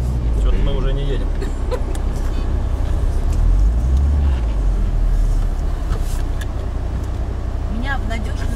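A new UAZ off-road vehicle drives on an expedition route in Bashkiria, its engine giving a steady low rumble with broadband road and body noise throughout, while people talk over it.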